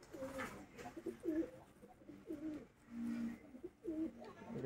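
A female pigeon in a cage, one of a pair, gives a run of low rolling coos, repeated every second or so, close and fairly quiet.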